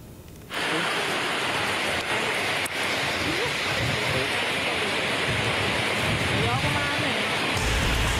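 Heavy rain driven by strong wind in Mojokerto, a dense, steady roaring wash of downpour and gusts that fills the whole stretch at a constant loud level, with no voices over it.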